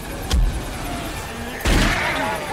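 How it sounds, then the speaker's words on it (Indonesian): A gunshot strikes a helicopter in an action film, heard as two sharp booming blasts with rumbling tails about a second apart. "Sebuah tembakan mengenai heli itu."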